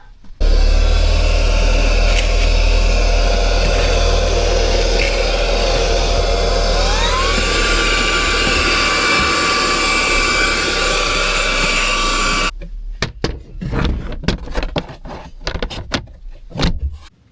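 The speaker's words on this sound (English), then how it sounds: "Might want to get my vacuum cleaner out and" A vacuum cleaner runs inside a camper van during winter preparation, a loud steady whine and roar that holds for about twelve seconds, its pitch shifting once partway, then cuts off and leaves scattered knocks and handling noises.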